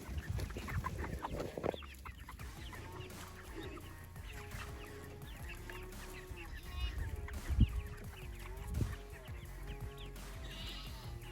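Backyard farm chickens cluck in short bursts while being fed garden scraps, soft and fairly close, with some low handling noise and a couple of brief louder knocks.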